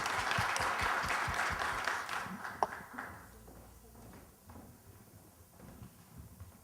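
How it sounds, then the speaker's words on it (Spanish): A small audience at a closing session claps for a speaker, a brief burst of moderately loud applause that thins out and fades into quieter room noise and scattered claps. "pido un fuerte aplauso"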